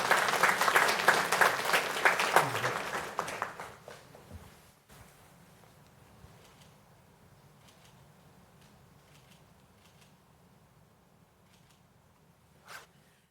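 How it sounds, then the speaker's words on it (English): A city council meeting audience in Fayetteville breaks into a burst of applause for community specialists. The clapping is dense and loud for about four seconds, then stops abruptly and gives way to a quiet room with faint shuffling. "Let's give our specialists a round of applause."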